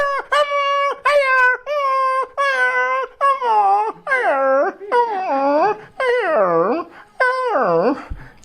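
A mimicry artist uses his voice to imitate a small puppy, producing a string of loud, close yelps and whimpering barks. They start short and high, then stretch into longer, wavering howl-like cries.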